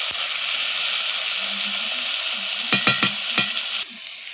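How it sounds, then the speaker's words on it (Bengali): Vegetables sizzle and fry steadily in a pan on a medium gas flame, with a few sharp scraping stirs near the end before the hiss drops lower. "খুব ভালো করে 5 মিনিট মিডিয়াম ফ্লেমে আমরা ভেজে নেব।"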